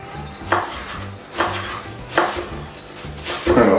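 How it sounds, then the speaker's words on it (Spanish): Onion is chopped finely with a knife on a board, four distinct thuds at an unhurried, roughly even pace, close by over a faint low background hum. "vamos a intentar picar la cebolla lo más pequeña posible"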